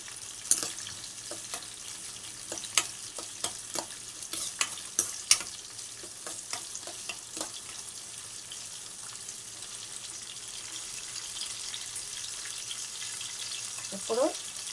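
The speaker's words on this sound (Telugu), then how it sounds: "ఉల్లిగడ్డలు కొంచెం బాగా మగ్గనివ్వాలి ఫ్రెండ్స్" Onions soften in a pan for a mushroom, brinjal and tomato curry, a low steady sauté sizzle with scattered sharp clicks of a spoon stirring, fading quieter toward the end.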